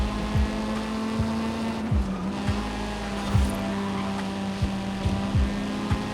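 Racing cars roar through a night race in a video game with Ferrari opponents such as a Testarossa and F40, engine tones steady with repeated sharp low thumps, all continuous without talk.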